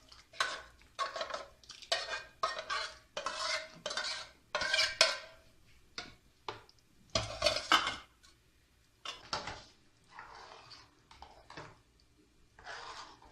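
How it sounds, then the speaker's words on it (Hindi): Cooked daal maash lentils go into a tomato masala in a pot and get stirred, with close spoon scrapes and metallic clinks coming in quick repeated bursts. "अब इसको जो दाल मैंने बना के रखी थी इसके अंदर में डाल दूँगी।"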